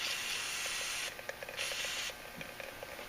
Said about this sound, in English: we're going to spray some brake clean on that